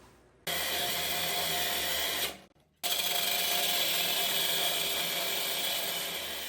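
A loud, steady power-tool whine cuts off U-bolt ends during a 4-inch lift install on a K5 Blazer, running continuously with one brief pause before resuming.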